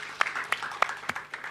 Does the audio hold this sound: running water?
no